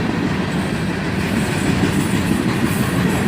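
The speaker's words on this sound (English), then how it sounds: "And a decent cut of tankers in this train." A CSX mixed manifest freight train hauling a cut of tank cars rolls past close by, a steady, loud rumble of wheels and cars with faint clickety-clack and no voices.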